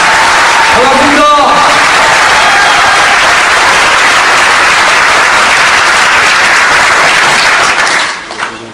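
A large crowd applauds at a political party founding convention, loud dense clapping filling the hall for several seconds before fading out at the end.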